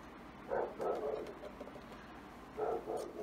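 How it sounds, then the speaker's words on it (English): A guard dog barks nearby in two bursts of a few sharp, agitated barks, separated by a short pause, with no talking over it. "Guard dog coming unglued."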